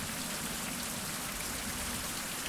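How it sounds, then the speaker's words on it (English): Steady rain pours in the survival game Survival: Fountain of Youth, a dense, even hiss of falling drops that holds without a break and has no voices over it. "And it's raining again."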